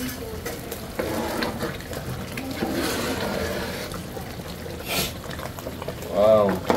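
Water is poured into pasta sauce cooking in a pan, a bubbling, splashing wash of liquid with a voice talking over it.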